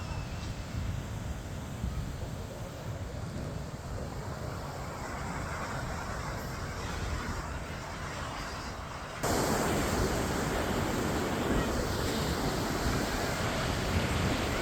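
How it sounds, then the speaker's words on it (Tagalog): Steady rush of ocean surf at Horseshoe Beach, Bermuda, with wind noise buffeting the microphone, growing louder partway through; continuous, close, with no distinct voices. "Ganda pakinggan yung alon."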